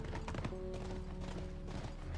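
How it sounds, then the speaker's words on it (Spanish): Zombie-infected horse in The Last of Us game, quick clip-clopping hoof strikes in a rapid uneven rhythm over a soft tonal game ambience, fairly quiet and brief. "Nunca he visto un caballo"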